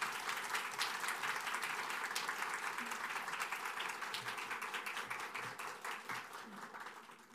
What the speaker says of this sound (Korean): 우리 하나님께 감사하고 격려하는 의미에서 목사님 격려하는 의미에서 박수로 맞이하겠습니다.